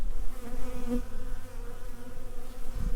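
Dense, steady buzzing of many starving honey bees close by in a hive, a continuous low drone with slight swells, no voices.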